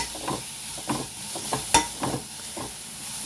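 Sliced onions and about ten garlic cloves fry in a pan for chicken sukka, giving a constant close sizzle. A spoon scrapes through them in repeated stirring strokes.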